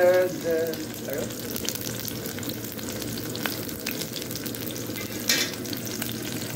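Onions frying in a hot pan where meat is being cooked, a steady broadband sizzle with crackles and spatters, fairly close and continuous, with a brief louder burst near the end.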